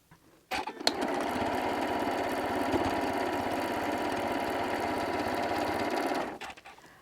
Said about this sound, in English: I need to go to the machine and sew a 1/4 inch seam there